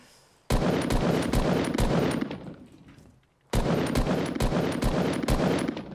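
Rapid automatic gunfire in the video game Fortnite crackles in two loud, sustained bursts split by a short lull, with no talking.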